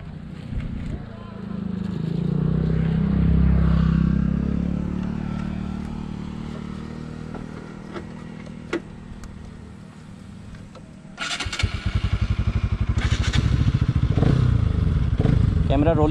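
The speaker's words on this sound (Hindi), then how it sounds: "मैं चलाऊंगा अभी BS6 RS 200 और राहुल को दूंगा ये वाली बाइक।" A BS6 Bajaj Pulsar RS200 motorcycle engine rumbles and swells as the bike accelerates, then fades a little before a harsher, louder passage of revving near the end, with no talking over it.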